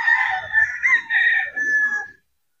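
A gamefowl rooster at the Mt. Banahaw game farm lets out a single clear, drawn-out crow nearby, broken into several pulsing segments before it cuts to silence.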